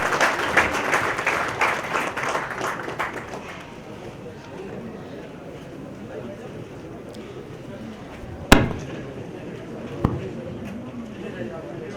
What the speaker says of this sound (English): A big round of applause for our chief guest, Mr. K.T. Ramarao.